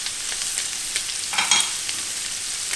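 Shrimp stir-frying in oil in a pan fitted with a frywall, giving a continuous close, bright sizzle with a few stirring scrapes, no talk.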